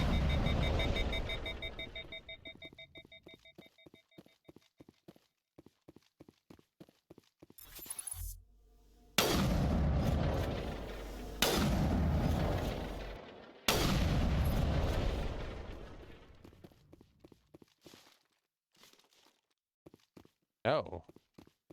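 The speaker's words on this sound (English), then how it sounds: "you can just shoot your way through it" Video game gunfire in Mass Effect: a run of quick rhythmic shots, then several heavy booming blasts in separate bursts with gaps between them, with someone talking now and then.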